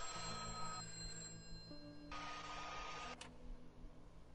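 Telephone ringing in a prison visiting area during an inmate's call in a video game, a steady electronic ring tone repeating over low background hum, close and fairly loud with no talk.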